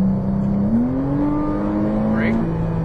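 An exotic sports car accelerates on a Las Vegas race track, its engine a loud, steady drone that climbs in pitch, holds, then drops slightly as the throttle eases.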